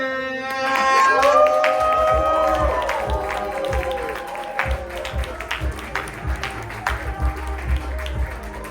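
An audience at a holiday comedy show applauds and cheers for a comedian, with voices and whoops over the clapping early on, then scattered claps and crowd noise continuing.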